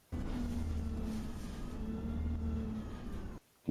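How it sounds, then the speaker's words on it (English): A bus engine drones steadily under load with a low, humming tone and slight shifts in pitch as the gears change, then cuts off abruptly near the end. "Alright, so you get the song of the engine."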